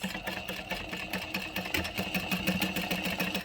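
Sewing machine running a seam with a 3/8-inch allowance, a steady fast mechanical whir with rapid needle ticking, moderately quiet and continuous without talk.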